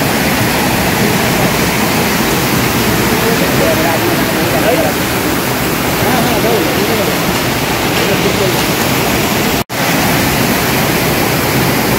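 Monsoon water rushes steadily at Panchalingeswar, a loud, dense, unbroken roar of flowing water close by, with only a momentary dropout near the end.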